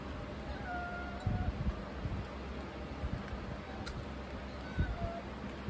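A cat meows a few times in a quiet indoor setting, moderately close, with faint background noise.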